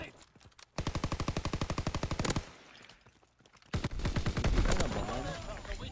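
Rapid automatic gunfire in Call of Duty: WW2 during a Gridiron match: a steady burst of evenly spaced, loud shots, a short lull, then another dense stretch of firing with heavier impacts.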